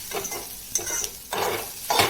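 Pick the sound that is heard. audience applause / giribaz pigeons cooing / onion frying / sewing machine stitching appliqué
onion frying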